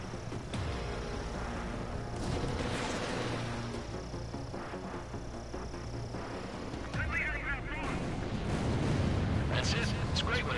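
Explosions and gunfire-like bursts rumble through an Ace Combat 7 aerial battle as an enemy bomber is shot down, layered with jet noise, radio voices and game music in a dense, continuous mix.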